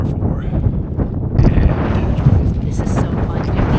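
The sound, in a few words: strong wind on a hiking ridge in Alaska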